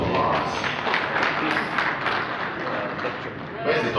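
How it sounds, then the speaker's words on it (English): Steady crowd applause with dense clapping throughout, loud and sustained, with some background voices. "can we please give them a round of applause?"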